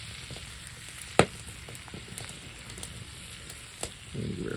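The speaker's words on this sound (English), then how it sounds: "Mushroom sauce on that steak." Steak topped with mushroom sauce sizzles in a pan inside a hot tent on an early November hunting trip, a steady low crackle with a sharp clatter near the start and another brief knock later.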